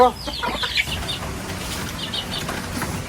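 Chickens cluck and flap their wings close by while being fed, with a burst of fluttering and scratching at the start, then softer rustling and pecking.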